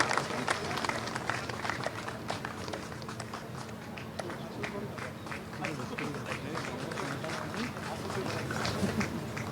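An audience claps to welcome the new BJP state party president at a political gathering, steady scattered applause at a moderate distance, with a voice speaking over it.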